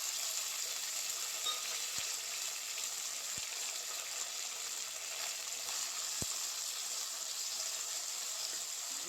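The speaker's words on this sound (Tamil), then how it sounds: "தக்காளியும் பச்சை மிளகாயும் போட்டு வதக்கிக்கலாம்." Tomatoes and green chillies sautéing in a pan with curry leaves for sankara fish curry, making a constant hissing sizzle with a few faint clicks over it.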